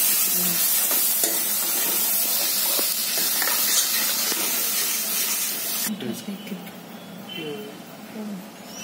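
Tomatoes with asafoetida, turmeric and chili powder hit a hot pan and sizzle loudly with a hissing burst that settles into softer frying and stirring, while someone speaks over it.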